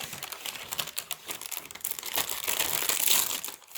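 Coffee-dyed parchment paper crinkles and crackles continuously, close and fairly loud, with dense irregular rustling bursts throughout and no talking.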